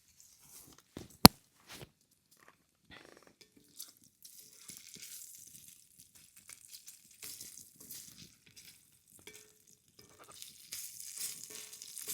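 Bacon and pancake batter fry in a cast iron pan over a lakeside campfire, giving faint sporadic crackles and pops amid near silence that grow a little busier toward the end.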